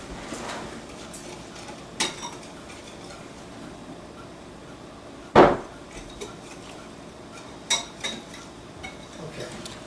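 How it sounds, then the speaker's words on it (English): A pot of Louisiana gumbo at a rolling boil is stirred, with a spoon giving a few sharp metallic clinks and clanks against the pot, spaced several seconds apart over a quiet background. "I'm going to stir this up."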